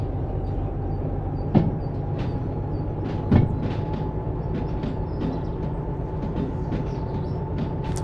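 A locomotive in the train simulator game Derail Valley rumbles steadily with a low engine drone and a constant hum, broken by a couple of sharp clanks, with no talking.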